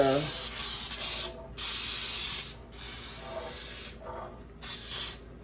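Several bursts of baking cooking spray hiss from an aerosol can, each lasting about a second with short pauses between them.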